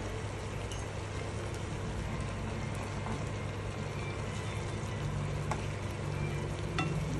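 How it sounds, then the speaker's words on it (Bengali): Butter sizzling steadily in a pan while lemon butter fish fries, a continuous close crackling hiss with no pauses or voices. "রান্নায় আর একটু আমি মাখন দিয়ে দিচ্ছি।"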